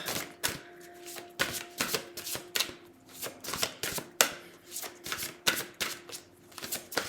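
Oracle cards are shuffled and drawn: a steady run of crisp riffling snaps and soft slaps, close and fairly loud, with no talking.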